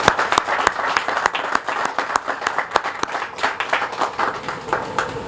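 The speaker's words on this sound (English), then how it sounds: "I think they deserve a round of applause." A crowd at an affordable-housing ribbon-cutting event applauds law enforcement officials who provided security, and the clapping stays close and uneven throughout, with sharp individual claps standing out from the steady patter.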